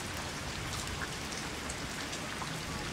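Heavy rain pouring down steadily, a dense continuous hiss of drops on surfaces with scattered louder splashes, close and unbroken throughout.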